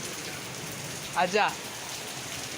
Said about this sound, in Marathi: खतरनाक वाला पहिला पाऊस चालू झालेला इथे.